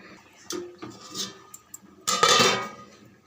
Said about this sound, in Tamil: சேர்த்துட்டு கலந்துட்டு மூடிடலாம்